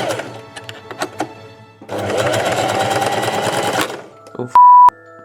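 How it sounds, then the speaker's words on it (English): A sewing machine runs a straight seam on a corset top in a steady two-second burst, with light handling clicks before it and a short tone near the end. "I'm literally just gonna sew a line, sew it together"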